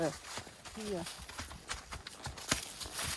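Horse walking on a trail, hooves clip-clopping in an irregular rhythm of soft, close thuds, with people talking over them.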